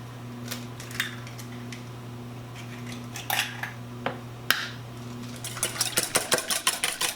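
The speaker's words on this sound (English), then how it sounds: "we're just going to whisk a couple of eggs here" A couple of eggs being whisked in a bowl, starting as scattered clinks and scrapes over a steady background hum, then building into fast, regular metallic taps against the bowl toward the end.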